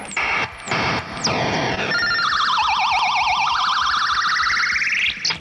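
Electronic toy ray gun effects, played through for an electric guitar sound: a few quick descending zaps, then a warbling, wobbling siren-like tone that sweeps upward, loud and close.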